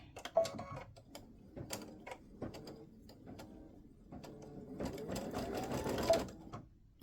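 An embroidery machine stitches freestanding lace butterfly earrings, its steady rapid needle clatter running close and continuous, rising into a busier mechanical whir toward the end.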